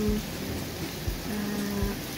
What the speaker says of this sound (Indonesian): sekarang hujannya agak membesar